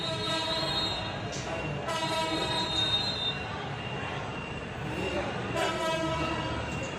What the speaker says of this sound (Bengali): উত্তরবঙ্গগামী একটি ট্রেন অতিক্রম করে মগবাজার রেল ক্রসিং